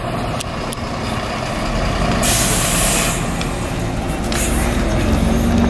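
A bus pulls up at a station, its engine rumbling close by before a loud burst of air-brake hiss lasting about a second, followed by softer hisses as it settles.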